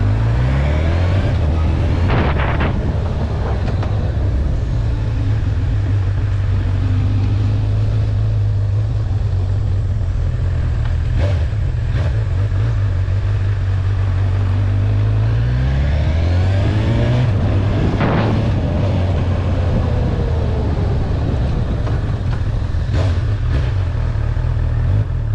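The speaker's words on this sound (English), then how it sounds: "Bike does have a quick shifter, so you can see I'm going through the gears without any clutch." A 2021 Honda CB1000R Black Edition motorcycle pulls hard, its engine note climbing and dropping as the quick shifter snaps through gears without the clutch, loud and close under constant wind rush.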